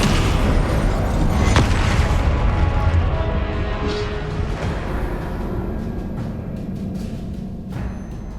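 Spell explosions and magic blasts in the Hogwarts Legacy video game, a dense, loud rumbling boom with a sharp burst near the start that fades into a sustained roar and crackle.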